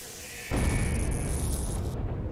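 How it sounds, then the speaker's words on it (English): A loud, sudden explosion from a grenade combined with a taser in the Henry Stickmin video game, a booming burst that cuts in abruptly and sustains with a rumbling roar for well over a second. "Electricity plus grenade equals crazy explosion, apparently."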